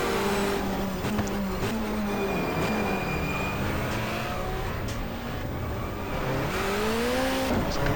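Touring car in the GTR2 racing game pulling out of a hairpin in second gear, engine whining and climbing in pitch as it accelerates, with other cars droning close around it.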